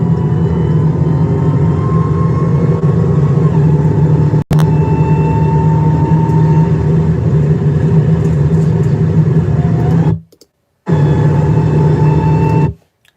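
A car engine held at full throttle, a loud, sustained roaring rumble that runs steadily for about ten seconds, broken by a sharp click, then cuts out briefly before roaring again and dropping away.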